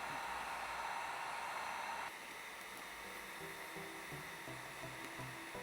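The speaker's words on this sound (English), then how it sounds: "now we're going to take our heat gun. I'm going to heat the center a little bit." Heat gun blowing a steady, loud airflow roar while warming yellow tint film on a vehicle light, the blast dropping slightly in level partway through and continuing without speech.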